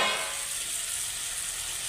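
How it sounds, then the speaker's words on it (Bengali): Eggplant sizzling in hot oil in a pan as it is stirred, a soft, steady hiss close by with faint scraping and no voices. "একটু কিছুক্ষণ নাড়াচাড়া দিয়ে বেশ ভাজা ভাজা করে নেব"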